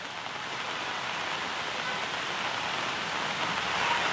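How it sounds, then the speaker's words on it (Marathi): Heavy monsoon rain pours down on a flooded street in Andheri West, Mumbai, a dense, steady, close hiss that holds unbroken throughout and swells slightly toward the end. "मोठ्या प्रमाणात हे पाऊस आहे"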